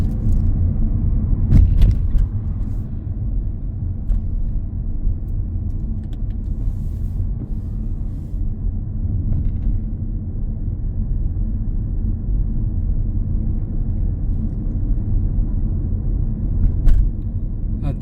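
A learner car driving along a Huddersfield road on a test route, giving a steady low engine and road rumble throughout with a couple of brief knocks, no talk.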